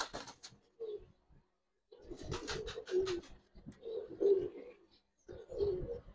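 Giribaz and coloured pigeons cooing close by in soft, repeated throaty phrases separated by short pauses, with a few brief rustles between calls.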